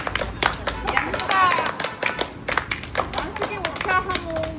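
Sharp, rhythmic hand claps repeat at an even pace during clapping yoga, close and clear, with a person talking over them throughout.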